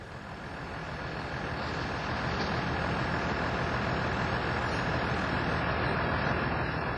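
Heavy road train trucks manoeuvre through mud, a loud, steady broadband engine rumble with a faint high warning beep, continuous and close throughout.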